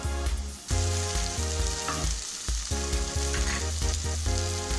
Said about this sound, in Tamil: இப்போ இந்த மசாலாவோட பச்சை வாசனை போகிற வரையும் ஒரு 3 to 4 மினிட்ஸ் நல்லா அதை மீடியம் ஹீட்டில் வச்சு குக் பண்ணிக்கலாம்